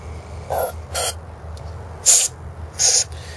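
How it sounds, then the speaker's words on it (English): Short aerosol bursts hiss onto a Tecumseh small engine part, four or five separate sprays spaced apart over a low background hum, sharp and close. "Spray everything on this lightly and gently."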